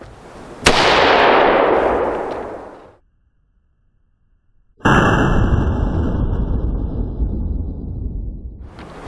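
Two loud gunshots from an AR-15 rifle fitted with a Titan muzzle brake, each a sharp blast followed by a long ringing decay, the second trailing a high whine, separated by a brief silence.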